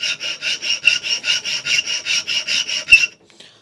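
A file rasps back and forth across a Black Padouk wood handle of an Opinel No. 8 knife, about fourteen even, close strokes in a steady rhythm before stopping, with no talk.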